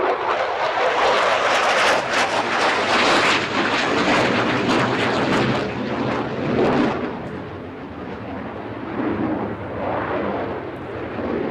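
A jet plane roars overhead in a flying display at the Farnborough International Airshow, a loud, sustained rushing engine noise that swells and then slowly fades.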